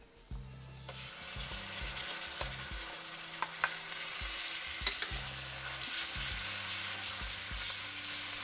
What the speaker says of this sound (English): we'll get this cooked down until the rawness of the ginger and garlic dissipates